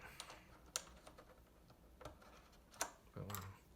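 A PBT keycap being pressed onto a Kinesis Advantage 2 keyboard gives a few faint, sharp plastic clicks and taps, spaced irregularly and quiet overall.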